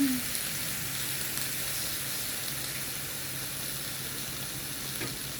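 Pork pieces for adobo sizzle and sauté steadily in a hot pan, a continuous broadband crackle at even loudness with no talking.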